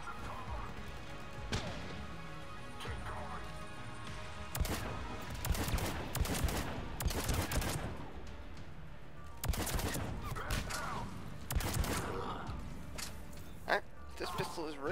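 Sharp single pistol shots in the video game Mass Effect 3, fired one at a time at uneven intervals across the clip, loud and punchy amid game effects and background sound.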